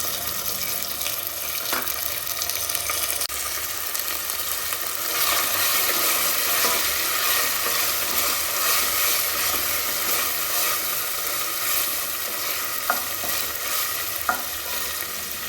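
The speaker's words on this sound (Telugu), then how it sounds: "నెక్స్ట్ జింజర్ గార్లిక్ పేస్ట్ వేసుకొని మంచిగా పచ్చివాసన పోయేంత వరకు మనం దాన్ని ఫ్రై చేసుకోవాలి" Ginger garlic paste frying in a pan for a paneer veg pulav, a steady soft sizzle with occasional stirring scrapes throughout, fairly quiet and without talk.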